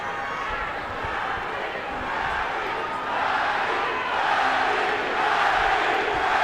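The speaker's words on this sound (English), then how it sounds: "Crowd chanting, Manny, Manny, Manny, as we expected." A large crowd at a boxing match in a video game roars and chants continuously, a dense wall of voices filling the space with a steady rhythmic swell.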